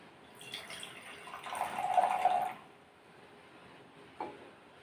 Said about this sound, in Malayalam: ബീക്കറിലേക്ക് 2 ബീക്കറിലായി അല്പം തണുത്ത ജലം ഒഴിക്കാം